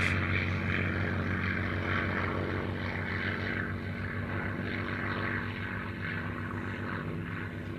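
A Messerschmitt propeller fighter rolls left and right over the center line at an airshow, its engine a steady droning roar with a throbbing low hum, moderately distant, fading slightly toward the end with no talk over it.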